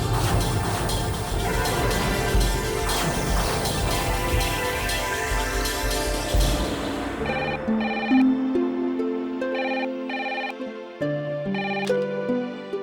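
A telephone rings in a Hindi TV family drama, repeated electronic ringtone tones that emerge after a loud dense musical passage and continue alone in regular bursts.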